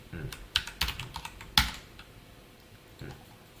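Computer keyboard keys clicking while Python code is typed, a few quick separate taps and a short burst, moderately close, then the room goes quiet apart from soft background noise.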